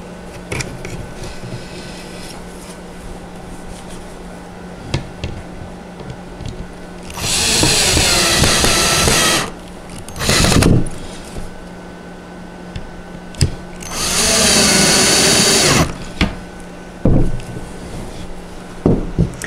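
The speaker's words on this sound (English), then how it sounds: "For this demonstration, I'm going to be using a drill to make it a little bit faster." A power drill on a low setting drives screws into the wooden rails of a white doll bed with trundle, in three loud whirring bursts separated by a steady quiet room hum.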